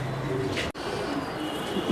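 Soft, low cooing of a Madrazi pigeon repeats nearby, with a brief break midway and faint background noise.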